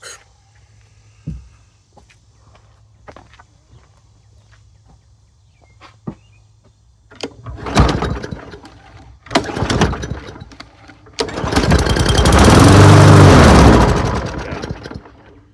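Small engine on a used, neglected Walmart lawn mower with a suspected carburetor restriction: quiet ticks and pulls, then a few loud rough bursts as it tries to catch, ending in a brief roaring run that swells and fades.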